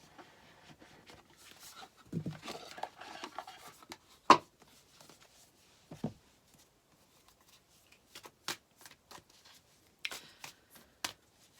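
An Akashic Tarot card deck being shuffled by hand, with soft rustling riffles and sharp card snaps in irregular bursts, close and fairly quiet, with no talking.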